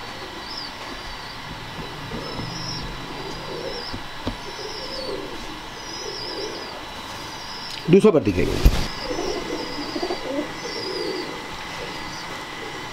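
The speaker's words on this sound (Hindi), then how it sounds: "इमामदीन ब्रीड दिखा रहे हैं इस वक्त, बड़ा कबूतर है ये" Soft cooing of large Imamdin breed pigeons repeats in the background, then a louder rumbling clatter passes briefly midway while someone speaks nearby.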